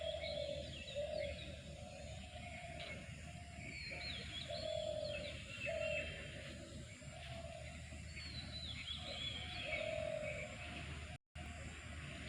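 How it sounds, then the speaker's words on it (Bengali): Birds calling all around an open college campus with trees, pigeons cooing in a repeating low rhythm beneath scattered chirps and tweets, moderately near, with faint distant traffic in the background. "শুনতে পাচ্ছেন চতুর্দিকে পাখির কলতান"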